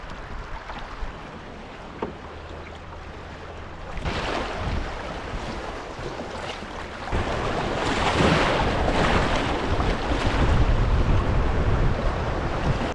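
Paddles dip and pull through the water as a canoe moves along the River Spey, with soft splashes and swishes over steady wind and water wash, growing louder in the second half; no voices.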